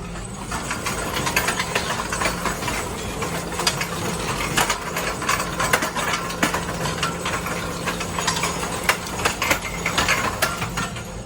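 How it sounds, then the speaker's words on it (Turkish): A New Holland tractor engine runs steadily while rolling down a steep slope without throttle, a continuous low rumble with rattling mechanical knocks and no talking. "Traktöre gaz vermiyorum kendi gidiyor."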